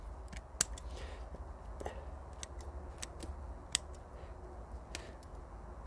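Small scissors snip at the roots of a hornbeam bonsai during bundle fusion work, sharp isolated clicks coming at an irregular pace, several sets close together, over a quiet steady background hum.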